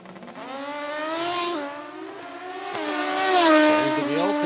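Kawasaki racing motorcycle at a Midwest sportsman drag race run flat out, its engine note rising through the gears in smooth harmonic sweeps, loud and close, swelling again toward the end.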